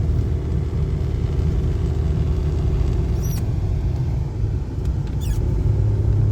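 A 1991 Ford Ranger cruising in second gear with a steady, loud low rumble of engine and road noise throughout, with a couple of faint high squeaks near the end.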